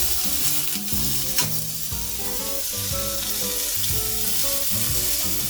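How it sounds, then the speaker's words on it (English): A tomahawk steak searing in vegetable oil over medium-high heat, a loud, steady close sizzle. Tonal music plays steadily underneath and no voices are heard. "we're gonna add this steak on there so we can get a crust"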